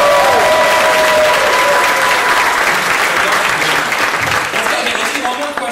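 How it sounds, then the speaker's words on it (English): Applause and cheering from a convention panel audience at PAX 2014, a loud dense burst of clapping that holds steady and then begins to taper off. "Can you guys cheer for him for setting all this up"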